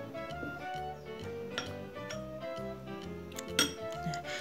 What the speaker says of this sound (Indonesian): Dan ini kita aduk rata.